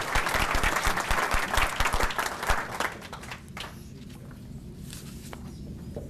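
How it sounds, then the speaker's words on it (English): A crowd at an awards ceremony claps together in a dense burst that thins out to a few scattered claps and fades into quiet room noise. "Please give a round of applause to Lisa Dotson"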